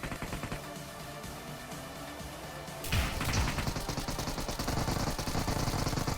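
Gunfire in the mobile battle game PUBG Mobile as a teammate wipes out a squad, rapid repeated shots that rattle steadily, swelling louder partway through with dense bursts and thuds.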